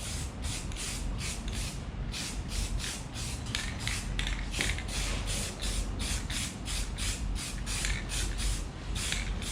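Black spray paint is misted onto the top of a zombie headstone display in a rapid string of short, close hissing bursts with a steady rhythm throughout.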